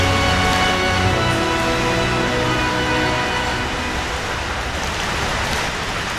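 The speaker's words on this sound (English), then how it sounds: "So it's raining." Steady rain hisses continuously outside a workshop, a dense even wash of noise that stays level throughout, with no voices.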